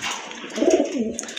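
A large domestic pigeon gives a short, close, throaty coo, one soft rolling call over a brief moment with faint background noise.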